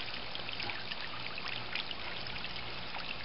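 Water from a homemade DIY waterfall spills off the edge of a bird bath and trickles steadily onto the ground outdoors, a continuous soft splashing and dribbling with no voices.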